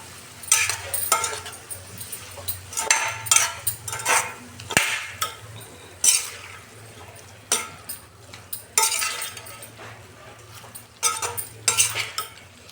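Lemon juice mixture for a sweet-sour lemon pickle is stirred in a pan, a steady run of scraping, clinking spoon strokes against metal with brief pauses between them, close and clear with no talking.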